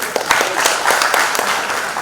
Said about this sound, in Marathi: ज्यांनी टाळ्या वाजवल्या नाहीत त्यांना डबल धन्यवाद।